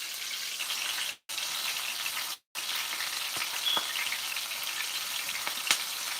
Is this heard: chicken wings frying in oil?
yes